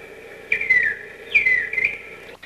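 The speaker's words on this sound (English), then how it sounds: "This bird reminds us an awful lot of the Bob White back home." A bird in Africa sings two clear, whistled phrases in quick succession, each a bright rising-and-falling call resembling a bobwhite, over quiet background.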